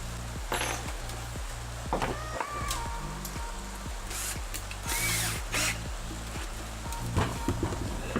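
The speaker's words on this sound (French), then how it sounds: "je vais prendre une mèche. Normalement, voilà, c'est ça, c'est du 6. Donc je vais faire mes trous." A power drill with a 6 mm bit bores holes, its motor whirring in repeated short pulses with rhythmic low chatter, close and fairly steady, with a few brief sharp clicks and scrapes between runs.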